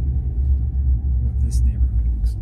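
A car driving through a residential neighborhood produces a steady low interior road rumble with the engine droning underneath, continuous and fairly loud.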